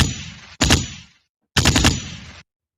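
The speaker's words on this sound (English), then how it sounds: "my podcast machine, because I love it, and it can do things like gunshot," Two loud, close gunshot sound effects fire from a podcast sound machine, each a sharp burst with a brief rattling tail, separated by about a second of silence.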